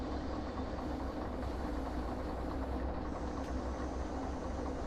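A locomotive engine in a train driving video game runs steadily, a constant loud low rumble and rail hum that never lets up, with no voices over it.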